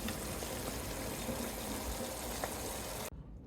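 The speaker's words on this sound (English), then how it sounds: "Always rinse your can with a little bit of water and just go ahead and add it." Water swirled in a tomato can and poured into a pot of Italian sauce, a steady close splashing and trickling that runs continuously and then cuts off abruptly near the end.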